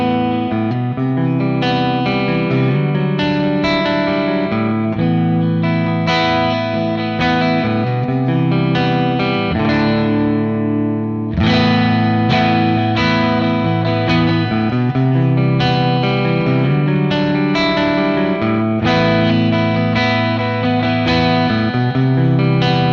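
An electric guitar played through the Plexi channel of a Friedman JEL-20 amp, turned up to a crunchy, saturated drive. It strums repeated chords in a steady rhythm, loud and up close, with no talking.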